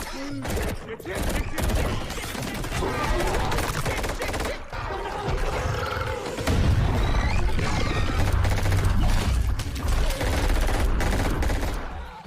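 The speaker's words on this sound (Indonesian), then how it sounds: "Lalu mereka pun mulai menembaki monster itu." A film monster draws dense, rapid gunfire from several weapons, loud and close, crackling with bursts and heavy booms that build into a continuous barrage with crashing impacts.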